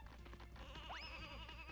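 Single sheep bleat in the video game Space Station Silicon Valley, a rising wavering cry that lasts about half a second over steady game music and background hum.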